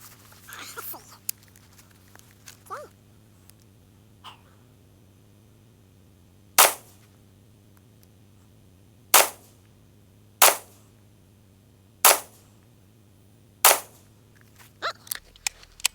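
Rifle shots fired at targets 50 yards away on an outdoor range: five sharp, separate cracks spaced a second or two apart, with quiet gaps between and faint handling noises before and after.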